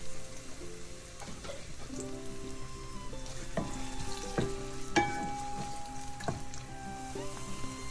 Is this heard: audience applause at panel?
no